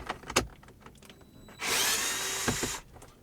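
Power drill removing the screws from a dash bracket in a 2015-2019 Ford Transit: one short, close whirring burst of about a second, with small handling knocks around it.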